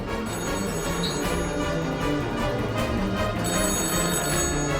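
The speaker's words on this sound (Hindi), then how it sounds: "अकबर के कैबिन का फोन लगातार बज रहा है।" A telephone in an office cabin rings continuously, with steady, loud, repeating electronic bell tones close by and no talk over them.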